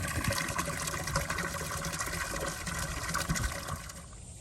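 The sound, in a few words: water running from an attachment for watering animals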